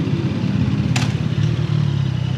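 A 675 NK motorcycle on its stock exhaust idles close by with a low, steady, throbbing burble, and a brief sharp click cuts through it.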